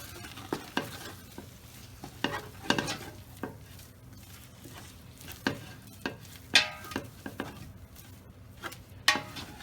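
A spoon works through a thick, stiff sweet cheese mixture with rose water in a pot, giving close, intermittent scrapes and knocks in irregular strokes over quiet gaps.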